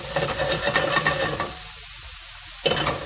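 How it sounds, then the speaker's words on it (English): Minced garlic, ginger and onions sizzling hard in a stir-fry pan, a loud close hiss with stirring that drops away briefly, then surges back. "I got my vegetables started. That is the garlic, the onions, that's raging."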